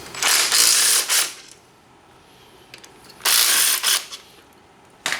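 A hand ratchet works loose the 12mm bolts on the rear brake caliper of a Banshee, producing two loud bursts of rapid clicking separated by a quiet pause, close up with no talk.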